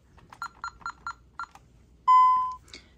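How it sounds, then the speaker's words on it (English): An alarm keypad gives five short, quick beeps, then a single longer steady tone and a faint trailing chirp, close and clear in a quiet room. "Noticeable change when the alarm in the keypad goes off"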